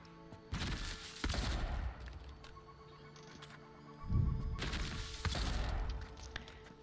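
Video game gunfire comes in two loud bursts of rapid shots about four seconds apart, each with a booming low rumble and a hum between them.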